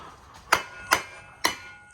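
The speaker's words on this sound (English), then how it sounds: "We're gonna grab ourselves a hammer because it should take just a little tap to get that off." Hammer tapping on a Mazda CX-9 driveshaft during removal, four sharp metallic knocks spaced roughly half a second apart, close and ringing, with no voices.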